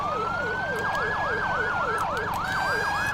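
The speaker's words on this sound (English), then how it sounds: "I think he had different sirens on it" Emergency vehicle sirens on the rescue truck Rescue 50 in a video game, a fast rising-and-falling yelp wail cycling repeatedly, steady and loud with a faint second tone underneath.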